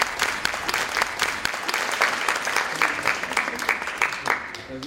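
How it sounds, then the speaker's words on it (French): An audience at a community health event in Trappes applauds a group of participants with sharp, clearly separated claps in an uneven rhythm, fairly close and lively. "On l'applaudit encore une fois."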